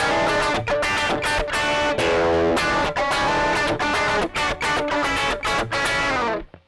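A guitar distortion plugin with the gain cranked up: heavily distorted electric guitar plays loud, saturated chords in a chugging rhythm, with a thick, fuzzy high-gain tone that cuts off at the end.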